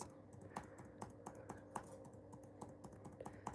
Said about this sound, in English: I don't know if you heard the clicking in the background